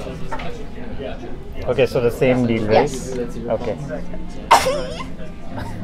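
A single sharp sneeze bursts out near the end of a lively pub chess game, amid close conversation and background chatter.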